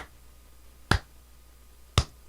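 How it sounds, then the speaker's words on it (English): Two sharp, isolated claps spaced about a second apart, starting a slow clap in a quiet room, each a crisp broadband smack with a short decay. "I'm going to start the slow clap"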